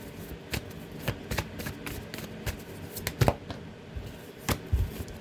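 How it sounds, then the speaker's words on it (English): Tarot cards shuffle in quick riffling bursts with soft taps between them, close and fairly quiet. "Get a good shuffle."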